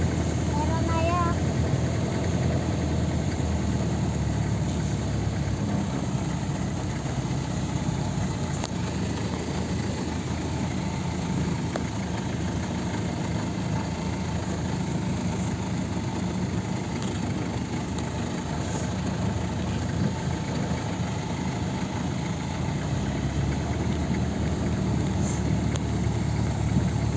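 A 3.0 vehicle engine, freshly overhauled, idles with a steady, unbroken low drone that holds at an even level throughout, close by.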